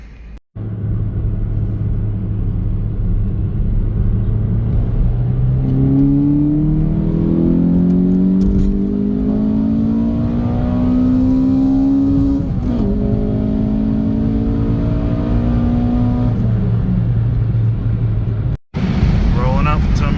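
E85-converted car fitted with RDX injectors, its engine droning steadily and then climbing in pitch through a long rev before dropping back. The engine stays loud and close for the whole stretch, with a brief cut near the end.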